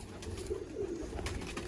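Teddy pigeons give a short stretch of soft, low cooing, close and continuous, with no voices.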